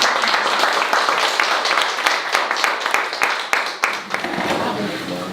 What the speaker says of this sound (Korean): 먼저 한번 감사의 박수를